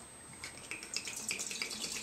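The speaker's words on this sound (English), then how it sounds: "pouring the vodka" Vodka poured over figs, a light trickling liquid splash that builds over about two seconds, close and fairly quiet, with no talking.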